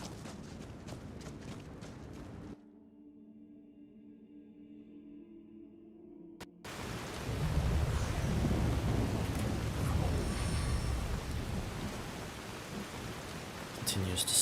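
Steady thunderstorm rain roaring in Skyrim, with a low rumble of thunder swelling midway, broken by a short stretch of quieter indoor ambience with a soft hum before the downpour returns at full volume.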